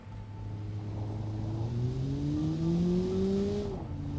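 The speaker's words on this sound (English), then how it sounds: "let's just take this thing for a lap around the test track, in-game of course" A front-engine, front-wheel-drive car in the Automation tycoon game laps a test track, its engine droning steadily and rising in pitch as it accelerates through the gears, heard alone and fairly close.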